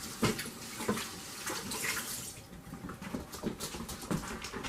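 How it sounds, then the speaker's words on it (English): Tap water running steadily into a sink during handwashing in a home kitchen, a close hissing splash with soft irregular knocks and rubbing over it. "Wash my hands."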